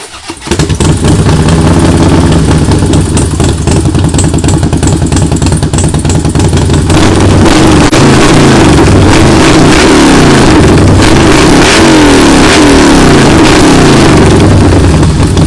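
A 142HP APL Softail motorcycle fresh off the dyno starts up, then idles and revs very loudly and close. Its deep, lumpy engine rumble swells through repeated throttle blips.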